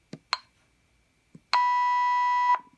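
Keypad on a Mico ePore Rev 2 prototype: a few soft taps, then a clear, steady electronic beep held for about a second, loud and close in a quiet room.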